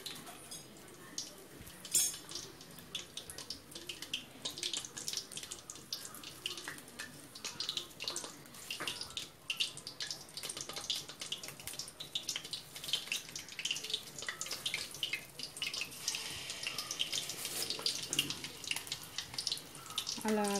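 Palm fruit garelu (thati garelu) deep-fry in hot oil, giving a continuous crackling, bubbling hiss at moderate loudness with small pops scattered through it.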